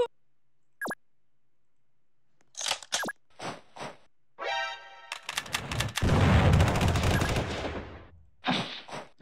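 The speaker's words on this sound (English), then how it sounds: "I'm gonna shoot him" Gunfire in the video game Combat D-Day, with scattered clicks and short bursts before a loud, dense volley of shots lasting a couple of seconds, followed by a few more isolated cracks.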